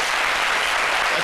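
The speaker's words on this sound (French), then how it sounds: "on l'applaudit très fort" A studio audience on a midday TV talk show claps loudly and steadily in a dense, continuous wash of applause with no talk over it.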